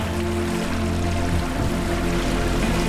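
Steady wash of water and gentle waves lapping against a sailboat hull off Komodo Island, Indonesia, a continuous close, even rush with low rumble underneath and no voices.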